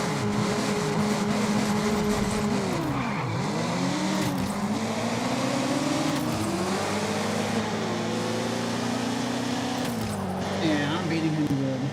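Race car engines in the video game Auto Legends drone and rev steadily throughout, pitch dipping and climbing as the cars shift and accelerate, with a voice talking over the engine noise at times.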